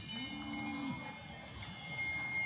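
A cow moos on a high Alpine meadow in Austria, one drawn-out low call followed by a shorter fainter one, with quiet open-air ambience and faint clinks around.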